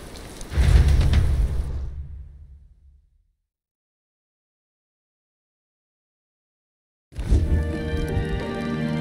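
Rain falls in the fantasy role-playing game Metaphor: ReFantazio as a loud, steady hiss with a low rumble, cutting out to silence midway and then returning just as dense, with no voices.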